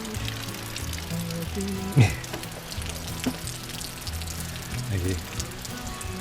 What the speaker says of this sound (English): it's absolutely pouring down with rain